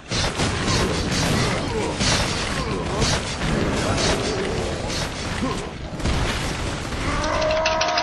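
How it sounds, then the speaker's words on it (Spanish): A dense, noisy blast of rumbling and crashing effects in the video game The Haunted: Hells Reach fills the clip, with a sharp explosion burst near the end followed by a ringing tone. "¡Wow! Una explosión ahí."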